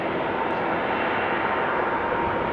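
A Garuda airliner at Amsterdam Schiphol airport makes a steady, broadband engine roar, heard from a distance, constant and unbroken with no voices.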